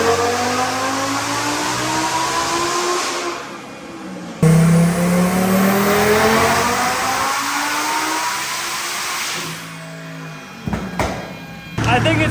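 A twin-turbo Lamborghini on a dyno roars loud and sustained on its highest boost map, climbing in pitch through a long pull, breaking at one point and surging again, then cutting off near the end.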